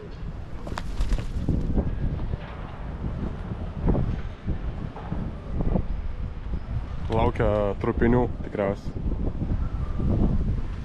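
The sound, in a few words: strong wind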